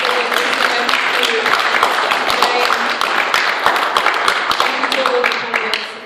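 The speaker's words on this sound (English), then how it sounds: "I'd like to ask everybody to give Rhydian a round of applause" Audience applause breaks out at a university general election hustings in Swansea, a dense, sustained clapping from a room full of people, loud and close, tapering slightly at the end.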